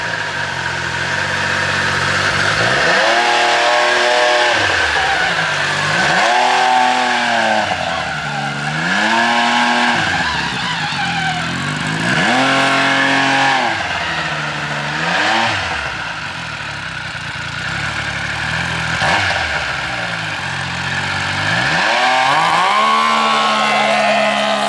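A mini truck engine revs hard at full throttle, loud and close, its pitch repeatedly sweeping up and falling back in several surges over a steady harsh drone, with no talking.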